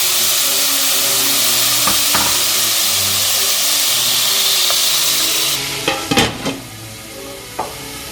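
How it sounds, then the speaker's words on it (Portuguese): Loud sizzling and bubbling from a pot of meat cooking in marinade broth, then the hiss suddenly quiets, leaving soft simmering and a few clinks of utensils. "Retorno todos os pedaços da panela juntamente com o caldo da marinada e deixe cozinhar até reduzir bem."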